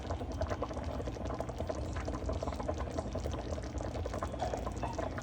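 Hamburger gravy simmers in a pan as it cooks down, giving a soft, continuous bubbling and sputtering that stays steady and fairly quiet throughout.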